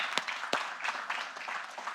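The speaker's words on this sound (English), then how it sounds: "You can give yourselves another round of applause." Faint audience applause at a business seminar, scattered claps with a few sharper individual hits standing out from a thin, fading patter.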